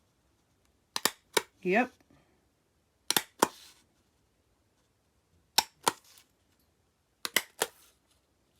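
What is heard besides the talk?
hole punch punching through a stack of paper and card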